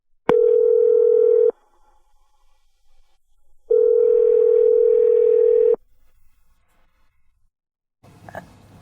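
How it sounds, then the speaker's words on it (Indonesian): A phone call ringing back: two long, steady electronic tones separated by a pause, loud and clean against near silence, followed by a faint rustle at the end. "Aku coba telepon aja deh."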